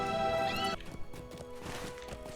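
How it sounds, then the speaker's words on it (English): A horse in the Lord of the Rings Online game gives a short whinny over music, then hooves clip-clop at a walking pace, fairly quiet and close. "Back on the horse again."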